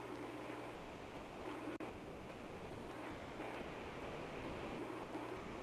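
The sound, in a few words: bigger winter waves striking a beach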